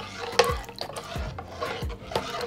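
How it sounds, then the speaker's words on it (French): Harira soup being stirred as a flour mixture is poured in, with soft repeated scraping and sloshing strokes from a spoon in a pot, close and fairly quiet, with no talking. "On verse le mélange de farine dans la harira tout en la mélangeant bien."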